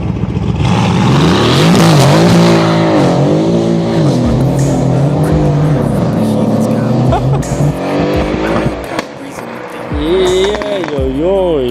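A tuned 660 hp Mercedes-AMG with its catalytic converters removed drifts on a wet surface. The engine revs loudly and rises and falls in repeated surges, with tire squeal and skidding. A voice talks faintly underneath.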